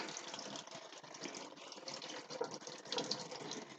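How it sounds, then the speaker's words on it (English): Shiso leaves rinsed under a running kitchen tap, a steady close splashing stream of water with slight shifts as the leaves move through it, with no voices. "I'm just going to quickly rinse off the leaves because they were outside."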